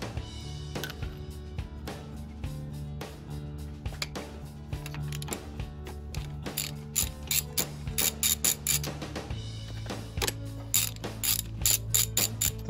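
A ratchet turns a 13/16 inch spark plug socket on a Mercury XR4 150 HP two-stroke outboard, making rapid close clicking in bursts. Shorter, sharper strokes come in the second half, with a faint hum underneath.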